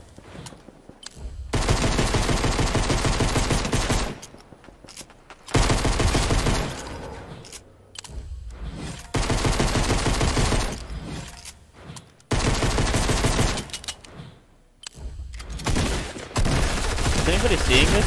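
Pistol gunfire in Fortnite Chapter 2, loud bursts of rapid shots in several separate runs with short gaps between them, amid a busy battle with other weapons firing.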